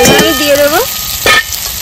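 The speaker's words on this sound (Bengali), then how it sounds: "এবার আমি দিয়ে দেবো ভেজে রাখা বেগুনটা।" Fried eggplant tipped into hot mustard oil in a pan and stirred, giving a loud burst of sizzling and frying with scraping stirs and a second surge of crackle partway through.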